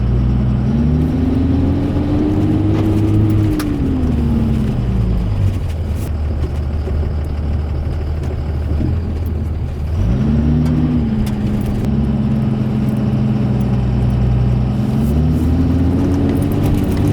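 Common-rail Cummins diesel swapped into a 6.4 Ford dually truck, running and being revved, the engine note rising and falling through two long throttle sweeps over a steady rumbling idle, loud and close.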